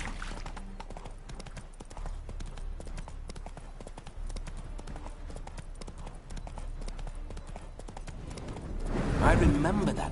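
Horse hooves clip-clop at a steady run along a path in The Witcher 3, a continuous rhythmic beat under in-game voices, growing rougher and louder near the end.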